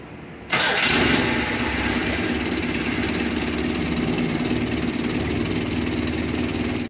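A Datsun A14 engine with electronic ignition catches after a brief crank and settles into a steady, fairly loud idle nearby. The rough mechanical running continues throughout, and no voices are heard.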